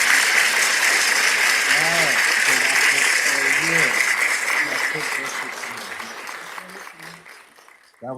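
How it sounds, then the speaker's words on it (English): A sustained wash of hands clapping, like an applause sound effect, runs loud and dense before thinning toward the end, with someone talking over it. "You don't know what I'm clapping for."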